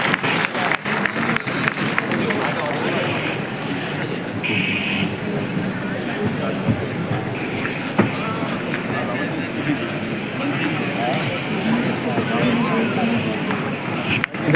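An audience at a cultural event keeps up loud, steady clapping, a dense continuous patter that runs throughout with voices mixed in.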